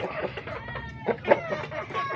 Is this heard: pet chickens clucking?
yes